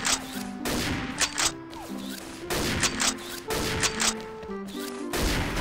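Sniper rifle shots in the game XSHOT ring out several times at irregular intervals over steady game music, each a sharp, loud crack with a short ringing tail.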